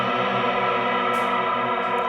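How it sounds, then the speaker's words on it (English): A guitar runs through a reverb pedal with the mix set fully wet, giving a thick, sustained, ambient wash of tone with a chorus-like shimmer and no clear attacks, heard alone. "Let's bring the mix up to where it's full verb."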